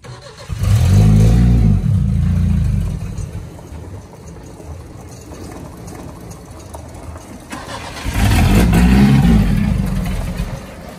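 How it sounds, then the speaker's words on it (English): A loud engine with an unmuffled straight-pipe exhaust ending under the floor of a Chevy S10 pickup roars in two bursts of revving, dropping to a quieter rumble in between, very close. "it's really loud because it's just a straight pipe right underneath the floor"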